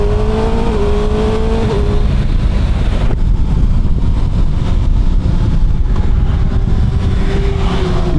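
A Kawasaki ZX6R 636 motorcycle engine drones loud and close while riding, with a sustained high-revving tone that shifts pitch across gear changes, backed by constant wind rush.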